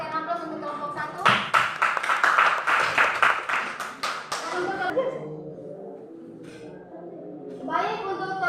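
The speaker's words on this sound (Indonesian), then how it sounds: "Baik, berikan aplaus untuk kelompok 1." A classroom of students applauds a presenting group, a burst of rapid, fairly loud hand clapping lasting a few seconds, followed by quieter voices and shuffling as talk resumes.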